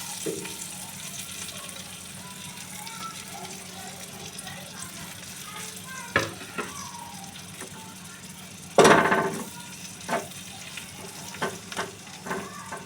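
Stuffed green chillies with masala sizzling in a pan, a soft steady fry under quiet talk, with a loud burst of crackle midway and several sharp utensil knocks and scrapes.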